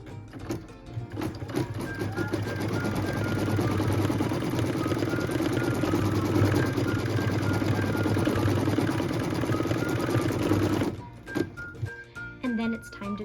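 A sewing machine stitches fabric down to tack it in place for an apple-shaped trivet, running in a steady fast mechanical whir for about ten seconds before stopping, with some handling clicks afterward and a voice talking over it.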